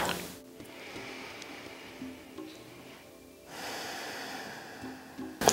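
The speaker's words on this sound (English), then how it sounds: "Take a breath." Breathing during a yoga practice for ankles and calves, with soft audible breaths and a sharper intake near the middle and again at the end, close and quiet against faint room noise.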